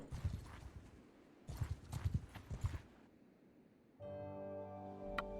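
Horse hooves clip-clopping in the Mount & Blade 2: Bannerlord video game, a quiet rhythmic run of hoofbeats in two bursts, then a steady tonal game sound takes over near the end.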